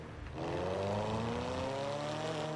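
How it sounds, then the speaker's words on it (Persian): A loud car engine in FiveM, the GTA V roleplay game, revs up and holds a strong, rising drone while accelerating, close and alone. "ماشین تو خیلی با کلاس ها ولی خیلی صدا میده."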